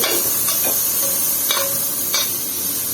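Stirring string beans and squash into a crab and coconut milk stew (ginataang alimasag) in a pan brings loud, close sizzling with several distinct scraping strokes of the spoon and no voices.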